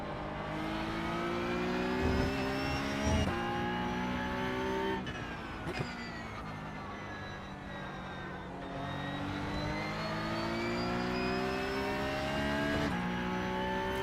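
Porsche Cup race car engine on a qualifying lap at Watkins Glen in iRacing, droning steadily and loudly with rising and falling pitch as it accelerates and shifts gears, with no talking.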